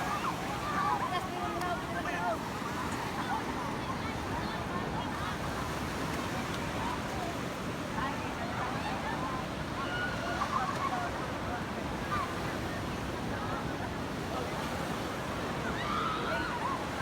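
Steady wash of surf rolls continuously on a quiet, uncrowded beach in Socorro, mixed with wind rumble and faint background voices, with no distinct individual wave breaks standing out.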